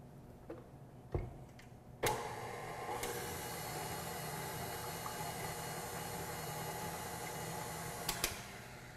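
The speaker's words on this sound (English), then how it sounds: "I'm going to put it under the mixer right quick just to kind of get that yeast completely mixed in" A mixer starts up after a few clicks and runs with a steady whirring hiss as it blends yeast, sugar and salt for a maple nut twist dough, ending with a couple of sharp clicks.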